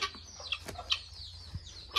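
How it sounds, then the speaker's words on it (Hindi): A hen clucks and squawks in scattered short calls, fairly faint, against a quiet farmyard background. "इधर में चिल्ला रही है क्या इधर में कौन सी मुर्गी है"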